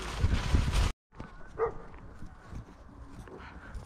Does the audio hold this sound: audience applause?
no